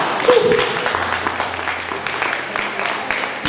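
An audience at a Christian sermon applauds, a moderate spread of clapping with scattered sharp claps while a voice and some background hum carry on underneath.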